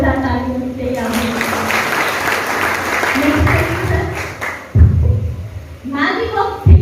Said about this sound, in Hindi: चलिए जोरदार ताली मिलते हैं